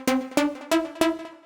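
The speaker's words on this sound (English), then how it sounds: "I want to introduce a repeating lead sound, which sounds like this." Detuned synth lead from a tech house remix, five evenly spaced plucky notes repeating in a steady rhythm, each a sharp attack with a short ringing tail, heard alone.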